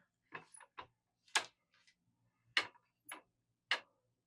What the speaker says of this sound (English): Still getting a little squeaking.